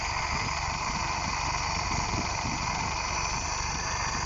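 A General Motors car engine idling with a steady, even mid-pitched hum and constant vibration, close and unchanging for the whole stretch, with no talking.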